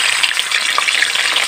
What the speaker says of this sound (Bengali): এবার মাছের মাথাগুলো আমি ছেড়ে দেব